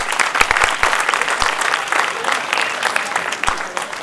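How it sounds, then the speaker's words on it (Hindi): Audience in Bhopal claps in a brisk, continuous burst of applause, fairly close and even throughout, with a few sharp individual claps or knocks standing out in the mix. "जोरदार तालियों से।"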